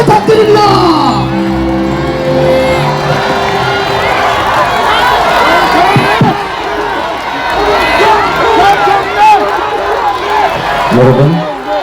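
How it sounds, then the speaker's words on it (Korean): A large crowd at a Democratic Party protest rally in Bupyeong Square, Korea, cheers and shouts loudly and without a break, with overlapping whoops and yells close by. "여러분 큰 박수와 함성을 부탁드립니다"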